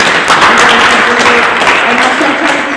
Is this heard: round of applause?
yes